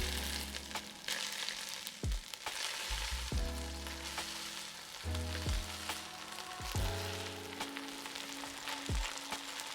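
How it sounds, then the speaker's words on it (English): Butter melts and sizzles in a pan for a lamb biryani, a steady close frying hiss with occasional soft knocks and scrapes of utensils. No one speaks. "I'm going to just melt some butter at the bottom and a little bit up the sides."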